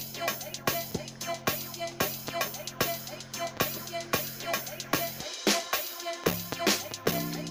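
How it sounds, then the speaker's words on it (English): A super uplifter riser instrument in FL Studio Mobile plays inside a looping beat with regular punchy drum hits, the rising sweep blending into the mix before a short drop near the end. "So that's my last instrument, the super uplifter, as you heard right there"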